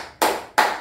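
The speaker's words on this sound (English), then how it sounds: "Clap your hands." Two sharp hand claps, close and distinct, about a third of a second apart, with no other sound around them.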